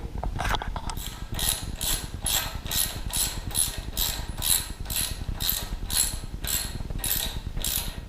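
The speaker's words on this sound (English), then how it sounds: "we'll tighten these down, we'll torque them down" A ratchet wrench tightens the air cleaner bolts on a Harley-Davidson Iron 883 during a DK Customs HiFlow air cleaner install, a close, rhythmic run of rapid clicking pawl strokes repeating steadily for about eight seconds.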